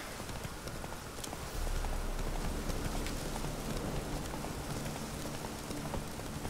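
Hooves clip-clop steadily as a horse is ridden through rain in the video game Witcher 3, with constant rainfall hiss underneath and the gallop growing slightly louder partway through.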